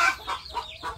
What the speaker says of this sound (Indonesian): kita dengarkan suara rame, ini banyak ayam yang sedang bertelur